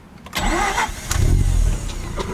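A 2011 Mazda RX-8 Sport with its rotary engine cranks briefly, catches and fires up, then settles into a loud, close, buzzy idle with a few uneven pulses.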